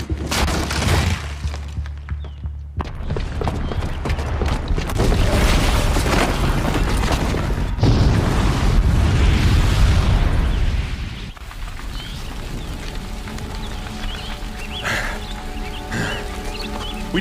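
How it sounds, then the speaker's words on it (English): A bomb set off by a booby trap in Horizon Zero Dawn, a deep roaring blast that swells and rumbles for several seconds before settling into a lower, lingering rumble with scattered debris noise; no voices. "the booby trap on the bomb downstairs is gonna get set off"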